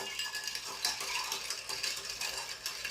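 A bar spoon stirs ice in a mixing glass for a Gibson cocktail, producing a steady, bright clinking and rattling that stays fairly quiet throughout with no voices.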